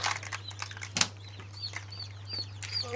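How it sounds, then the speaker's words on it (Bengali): Newly hatched quail and chicken chicks peep in a hatching setting with high, thin cheeps from several birds over a steady low hum, plus a brief rustle of movement. "কোয়েলের ডিম আছে, পাশাপাশি মুরগির ডিম দিছিলাম, সেখান থেকেও বাচ্চা ফুটে বের হচ্ছে"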